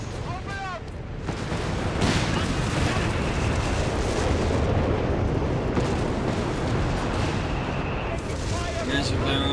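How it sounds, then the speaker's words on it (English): Artillery barrage in Company of Heroes 3, a World War II strategy game: dense rolling booms and bursts pound continuously for several seconds, loud and close, with overlapping explosions and a caster's voice briefly audible early on. "Massive barrage"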